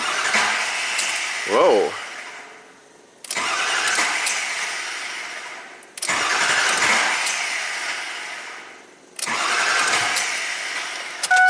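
2003 Ford F450 PowerStroke diesel wrecker cranking with a crank no-start fault: three long, loud starter-cranking bursts separated by brief stops, up close, and a short exclamation from a man near the start.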